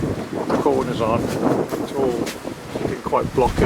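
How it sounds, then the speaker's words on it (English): Outdoors at a garden room build, gusty wind buffets the microphone with a constant low rumble under a man's speech. "Pardon the wind."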